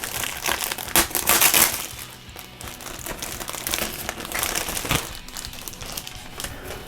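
A plastic bag of Eduard 1/48 P-40N model kit parts crinkles as it is handled, with close, sharp crumpling bursts, loudest early on, then lighter rustling and a few clicks.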